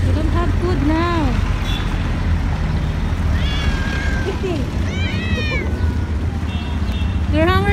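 Hungry, starving, sick cats meow repeatedly, several rising and falling cries from more than one cat scattered over steady low traffic rumble outdoors.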